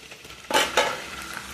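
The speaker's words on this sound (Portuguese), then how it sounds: "Tô fritando um bichinho aqui de porco. Pernilzinho, fritando uma linguiça aqui" Pork leg and sausage frying in a pan, with two short, quiet sizzling bursts as the meat is stirred, close by and without talk.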